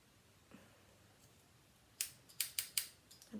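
Four sharp metallic snips from a pair of scissors, the first alone and then three in quick succession, crisp and close against a quiet background.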